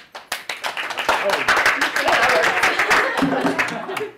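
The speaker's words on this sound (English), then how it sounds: "When she finishes, we're gonna clap ecstatically." Audience clapping at a performance poetry event, starting as a few sharp separate claps and swelling into dense, steady applause, fairly close and loud.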